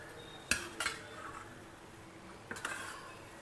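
A spoon scrapes and clinks against a pan while rice is gently mixed with the stove switched off, two pairs of close metallic knocks over a faint steady background hiss, no talking.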